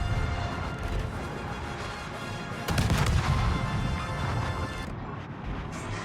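Naval gunfire in World of Warships, armor-piercing shells hitting the superstructure of the Hotaka, comes as continuous heavy booming and crashing with a louder burst of impacts midway and a steady rumble beneath.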